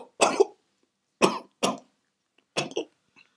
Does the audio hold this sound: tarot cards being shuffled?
no